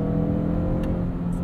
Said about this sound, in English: For a dual clutch transmission, this is super smooth, but yet it can also manage very quick shifts in something like sport mode.